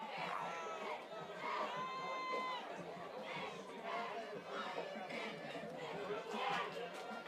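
Crowd noise at a high school football playoff game between Central York and York High, a steady roar of cheering and chatter from the stands with excited voices rising throughout, fairly loud and continuous.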